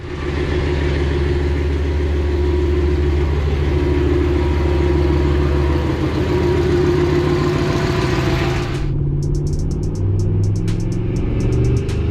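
A single-turbo Ford F150 pickup with a fault drives on local roads toward a dealership, its engine a loud, continuous low rumble close by, cutting off abruptly near the end.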